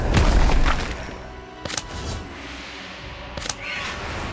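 Fire Crab spell effect in the video game Harry Potter Magic Awakened: a loud burst of rumbling blast up front, fading, then two sharp crackling hits over a low lingering hum.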